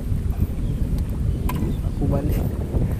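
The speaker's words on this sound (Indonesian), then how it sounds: "Angin kuat sangat." Strong wind buffeting the microphone while kayak fishing at sea in Malaysia, a constant low roaring rumble with gusty swells throughout, loud and steady with someone talking briefly under it.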